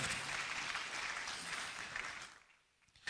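Audience applause at an art awards ceremony at Manhyia Palace, a steady wash of many hands clapping that tapers off sharply near the end into near quiet.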